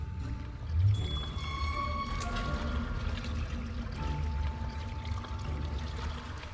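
Water runs from an opened tap in a game scene, a soft continuous pour with a brief low splash near the start and light tonal effects layered over it.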